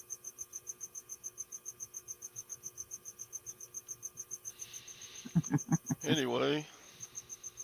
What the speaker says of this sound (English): she keeps crickets in the piano